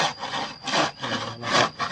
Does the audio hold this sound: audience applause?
no